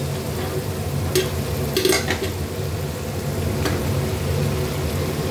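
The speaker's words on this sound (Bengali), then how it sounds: "কষানো হয়ে গেছে, গরম জলটা ঢেলে দিলাম।" Hot water hits a sizzling mixture of fried spices and large potato pieces in a pan, giving a steady loud hiss with a few brief clinks and scrapes.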